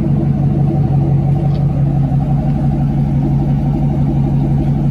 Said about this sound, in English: I figured you guys would like to hear some burble.